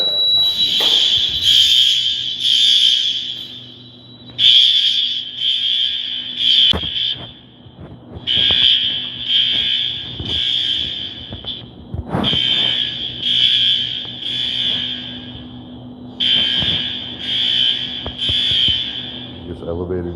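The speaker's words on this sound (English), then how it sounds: "This elevator don't work while the fire alarm's going off" A building fire alarm sounds in loud repeating bursts of shrill beeping separated by short gaps, with people talking beneath it and occasional clunks nearby.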